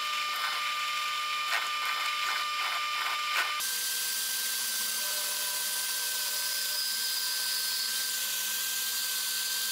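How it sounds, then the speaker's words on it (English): A drill press with a step bit drills into Kydex sheet, several rapid grinding bursts at first, then a steady whining hum of the machine running on alone. "I like these step bits because they do not melt the Kydex"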